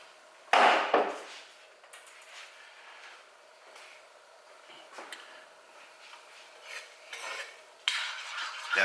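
A spoon scrapes and stirs in a chili pot of browned meat, onions and jalapenos as beer deglazes the bottom, with soft sizzling hiss and intermittent knocks of utensil against pot, close and fairly quiet.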